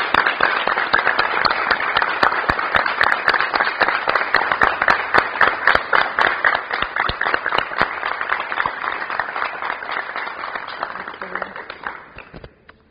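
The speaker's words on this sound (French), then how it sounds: "Nous recevons Michel sous vos acclamations" Studio audience applause and cheering greeting a guest on a French TV show: dense clapping with sharp individual claps over a crowd roar, loud at first and tapering off near the end.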